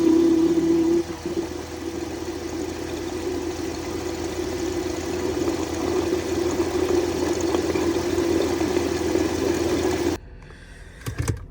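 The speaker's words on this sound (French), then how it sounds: "Entendez la complainte de la pompe." A steady, loud whine from the power steering pump of a Mercedes ML over a running engine, holding for about ten seconds and then dropping away abruptly.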